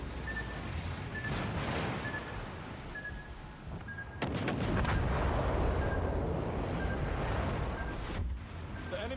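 Deep rumbling torpedo blasts in a naval video game, a sustained low roar that swells into a louder, heavier burst midway, with no talk.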